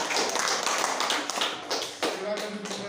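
A classroom group gives applause for the first presenting group, a burst of many hands clapping that rises loud then thins out after about two seconds.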